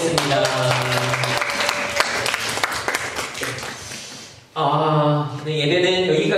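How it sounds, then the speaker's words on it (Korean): A youth worship service in a small church chapel ends with congregation applause, with bright clapping over sustained music that drops briefly, then music continues with the clapping faded. "하나님 앞에 영광의 박수 올려드리겠습니다."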